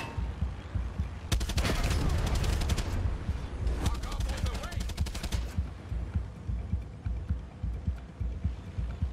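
Bursts of Far Cry 6 gunfire rattle out in dense rapid volleys, loud and close, followed by quieter sporadic single shots and thumps.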